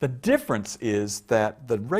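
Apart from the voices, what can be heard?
None of the usual background noises is heard.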